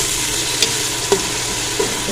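Chopped onion fries in a pan with a continuous close sizzle, and a few light scrapes and taps from stirring break through.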